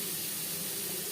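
Paneer frying lightly in a pan for a vegetarian potol paneer dish, giving a steady, even sizzling hiss that holds close and constant with no pauses.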